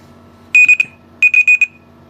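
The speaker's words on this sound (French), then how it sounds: "il fait bip bip parce que là, je suis pas focus" Two bursts of high electronic beeps from an EQUIMAT M60 rotary laser level, three then four quick tones, crisp and close in an otherwise quiet space.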